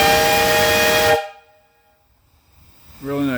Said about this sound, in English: Really nice whistle. 3 chime. I'll blow it.